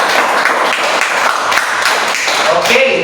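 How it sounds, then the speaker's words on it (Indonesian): A steady patter of clapping from a group at a university teacher-training session, continuous and fairly loud, with a voice faintly underneath. "Tepuk tangan dulu buat Iren."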